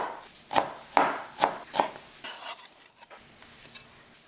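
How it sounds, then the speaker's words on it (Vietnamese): Green onion bases crushed and minced with a knife on a cutting board: four loud, evenly spaced chops close up, followed by a few softer, scattered taps. "Đập dập và băm nhỏ phần gốc hành lá."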